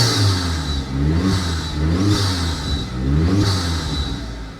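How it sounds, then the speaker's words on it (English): Vauxhall VX220 engine with an aftermarket air filter, heard from inside the car, revved three times in steady rising-and-falling surges, loud and close, with an intake whistle on top. "I'll give it a few revs so you can hear."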